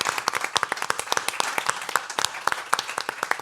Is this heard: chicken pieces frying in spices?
no